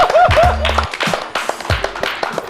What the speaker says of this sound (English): Yo, clap it up.